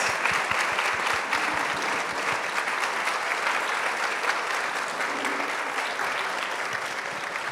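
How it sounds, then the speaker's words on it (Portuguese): Sustained applause from a standing audience at a launch event for an ocean-cleanup network document, dense steady clapping filling the room throughout, with some low thumps early on. "uma salva de palmas a todos, e que todos fiquem de pé"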